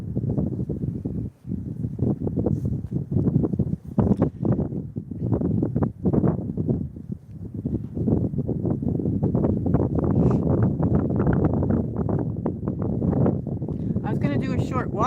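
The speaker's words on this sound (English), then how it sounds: "It's very windy and it's starting to get cold out." A strong outdoor wind roars and buffets close against the microphone in loud, continuous gusts beside a lake on a cold day. A person talks over it now and then.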